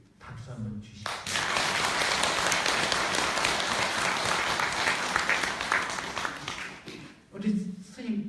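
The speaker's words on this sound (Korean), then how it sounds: "오늘 스님께 그렇게 해달라고 박수 한번 주십시오." A Buddhist temple audience at a dharma talk applauds for a monk, a sustained burst of loud clapping from a large crowd lasting about six seconds, with someone speaking before and after it.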